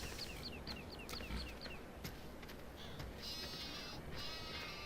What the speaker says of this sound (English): Yes, we've got sheep and pigs here.